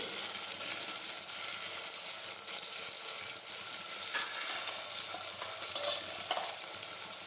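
Cumin and other spices sautéing in a pan for a cluster bean curry, a steady close hiss of frying with faint scrapes of stirring throughout.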